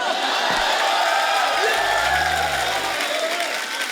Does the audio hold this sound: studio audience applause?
yes